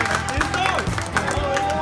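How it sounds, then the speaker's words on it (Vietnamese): An audience at a housewarming party claps together to welcome the homeowners onto the stage, a brief burst of dense applause mixed with crowd noise and music. "Nếu đồng ý chúng ta cùng dành một tràng vỗ tay ạ."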